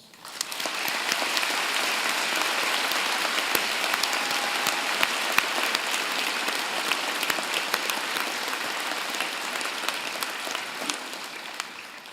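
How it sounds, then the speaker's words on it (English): Sustained applause from a graduation convocation audience, a dense steady wash of many hands clapping that fills the hall for about twelve seconds before easing slightly at the end. "join me and the platform party in thanking them with a vigorous round of applause."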